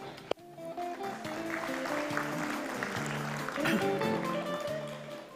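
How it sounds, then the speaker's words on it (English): Warm applause from a summit audience, steady clapping filling the room at a fairly even level throughout, with a brief sharp knock near the start and faint tones and murmur beneath. "Please welcome Director Schleicher with a warm round of applause."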